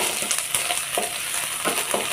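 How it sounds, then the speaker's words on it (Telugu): Ginger garlic paste fries in a pan for mushroom curry, a continuous close sizzle broken by several short scraping stirs of a spoon, with no one speaking. "జింజర్ గార్లిక్ పేస్ట్ కొంచెం మనం ఫ్రై చేసుకోవాలి."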